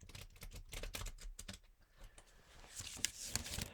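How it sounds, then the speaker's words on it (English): Quiet, rapid riffling of playing cards being shuffled, a soft flurry of papery clicks ending with a brief bridge shuffle. "shuffle one more time in the traditional way that cards are shuffled"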